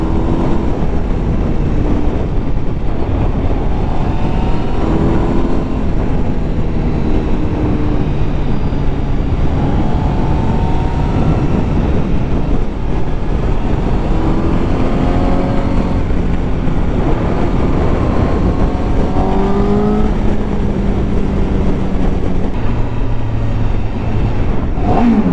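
A 2020 Honda CBR 1000 RRR SP Fireblade sport motorcycle on the move, its engine droning and rising and falling through gear changes under heavy, constant wind rush for about twenty-five seconds.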